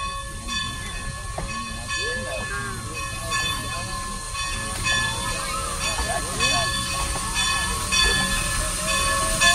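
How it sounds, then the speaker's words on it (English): An Everett Railroad steam locomotive in Duncansville, Pennsylvania, runs with a steady loud hiss of steam and rumbling mechanical clanks, joined by squealing tones, all continuing for several seconds. "And then they use the steam to power the"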